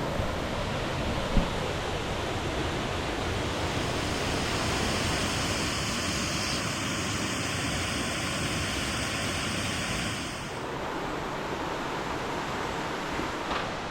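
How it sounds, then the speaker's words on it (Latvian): A large waterfall in Bali gives a steady, even roar of falling water, a constant broadband rush with no pauses, heard alone without voices. "Ūdenskritums redzēts"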